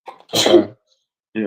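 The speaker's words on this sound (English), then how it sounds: "Well, damn, you just sneezed all over my arm." One person sneezes sharply and loudly up close, preceded and followed by short bits of talk.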